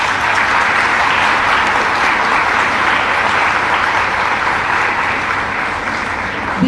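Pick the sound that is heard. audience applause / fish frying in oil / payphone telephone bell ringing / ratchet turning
audience applause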